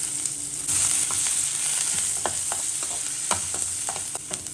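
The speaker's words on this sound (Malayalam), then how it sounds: "ഇനി നമുക്ക് ഇച്ചിരി കടുക് ഇട്ട് കൊടുക്കാം ആ കടുക് പൊട്ടിക്കഴിയുമ്പോഴത്തേക്കും" Mustard seeds fry in hot oil for pappadam mezhukkupuratti, crackling steadily with sharp scattered pops and a constant close sizzle, no voices over it.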